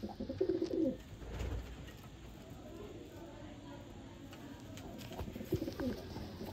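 A pigeon coos in two short bursts, at the start and again near the end, close but soft over a quiet outdoor hum in a pigeon loft; no one speaks.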